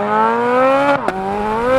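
A Chevrolet Corvette Z06's naturally aspirated flat-plane crank V8 revs loud and close, a steady climbing howl broken by one brief dip as it shifts before pulling up again.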